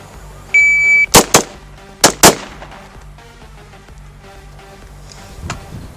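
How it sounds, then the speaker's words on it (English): AR rifle shots during target-transition practice, after a beeping shot timer: two pairs of sharp, loud, close cracks, followed by quieter background shuffling. "That's just a few tips that I use when we are practicing with the AR"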